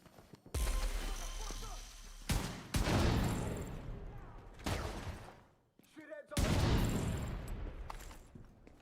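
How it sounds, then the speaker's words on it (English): Regulus pistol gunfire in the Division 2 shooter, four heavy, booming shots spaced a couple of seconds apart, each followed by a decaying echo tail, loud and close. "This is pistol. It's a Regulus."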